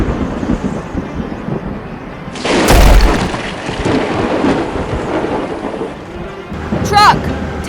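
Cartoon thunder and lightning in a children's truck story: a loud, close crack-and-boom of thunder over steady rain, with rumbling after it and a brief voice near the end.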